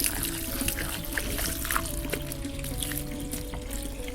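Water runs steadily from a tap while feet are washed, a soft, continuous trickle and splash that stays quiet throughout.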